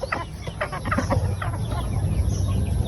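Backyard chickens at a coop on an island cluck in short, close, repeated bursts, with a rooster-like call in the mix over steady outdoor background noise, and no voices.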